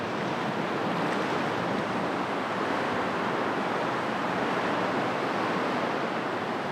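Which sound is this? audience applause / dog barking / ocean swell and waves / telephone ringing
ocean swell and waves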